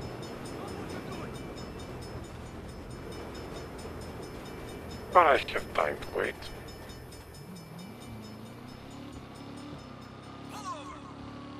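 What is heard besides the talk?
train passing, from a video game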